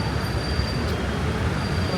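Steady, loud rumble of a train running overhead on an elevated track in Taiwan, a continuous broadband roar with a faint high whine throughout, heard up close without pause.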